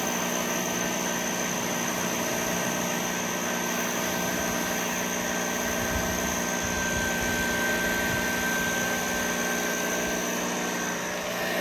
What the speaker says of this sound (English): Nothing like the sounds of a good old rinse off the pressure washer.